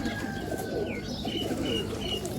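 Pigeons perched on a minaret coo softly against a background of steady low hum, with a few faint chirps, fairly quiet and distant.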